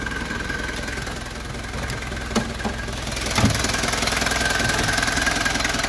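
A turbocharged Toyota Hardtop BJ40 4x4 diesel engine from 1983, original B-type engine, idles nearby with a steady knocking rumble, an even mechanical clatter that swells slightly louder partway through.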